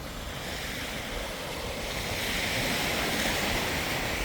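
Ocean waves wash onto a snow-covered Arctic Ocean beach, a steady, close surf roar mixed with wind that swells slightly louder toward the end, with no voices.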